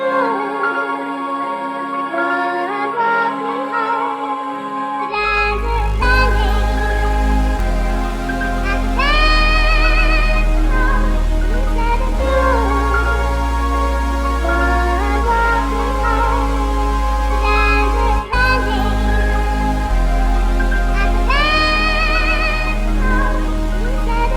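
A sampled beat plays without drums, run through saturation and a limiter: a dense, loud, steady loop of sustained melodic layers over a deep bass that enters after a few seconds, with recurring swooping lead phrases.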